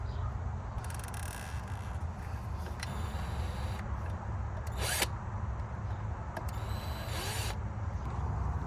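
A power drill bores a hole for a VW Rabbit throttle cable during an ABA engine swap, a continuous low whirring grind with short higher squeals and bursts over a steady background hum.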